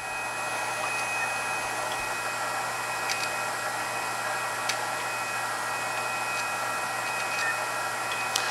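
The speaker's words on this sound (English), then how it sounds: "right now the wire is just feeding through the gun" A MIG welding machine runs wire through its welding gun with shielding gas flowing, giving a steady, even hiss with a faint mechanical whir and an occasional tiny click, close and unchanging throughout.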